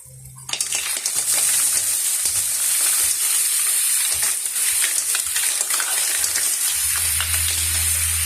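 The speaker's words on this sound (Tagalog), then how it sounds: "So, lagay na po natin ang ating tahong mga kaguro." Mussels hitting a hot pan and sizzling loudly as they are stirred, with a steady bright frying hiss and scattered clinks of shells and utensil against the pan, close and continuous.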